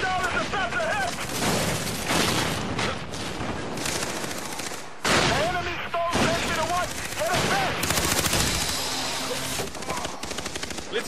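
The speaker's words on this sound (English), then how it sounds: "Friendly bomb shell is about to hit!" A friendly bomb shell strike in Far Cry 3 multiplayer: dense, continuous gunfire and heavy booming impacts roll on with no break, while a voice calls out over the din.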